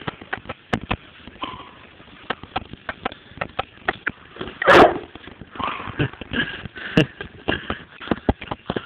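A dog sniffs rapidly and rhythmically close up, with short bursts of breaths, one louder snort midway, and light shuffling.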